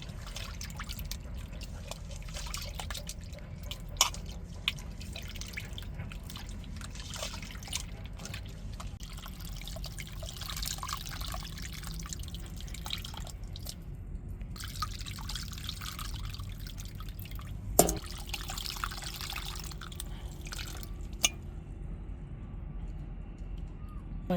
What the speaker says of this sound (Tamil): இப்போ புளியை நல்லா கரைச்சி எடுத்துக்கிடுவோம்.